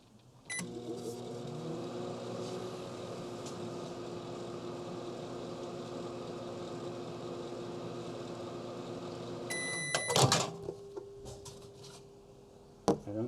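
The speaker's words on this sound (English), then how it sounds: "Dr. Malcolm, what would happen if you microwaved a record?" A microwave oven runs with a vinyl record inside, a steady loud hum and drone that ends in a sharp crackling burst of snaps and pops near the end before a final click.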